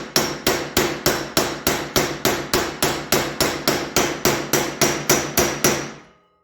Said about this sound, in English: Although I'm just using this little hammer.